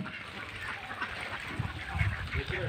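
Farm ducks quack and honk in a noisy cluster at close range, a continuous jumble of calls that swells toward the end, with a voice briefly heard among them.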